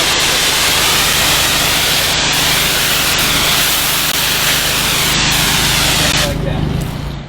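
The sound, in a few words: pressure washer spraying screen enclosure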